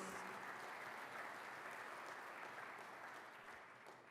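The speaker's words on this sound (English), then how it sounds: "Can we have a big round of applause for the rulers?" An audience at a diaspora session applauds the rulers, a continuous wash of clapping heard faint and distant, tapering slightly toward the end.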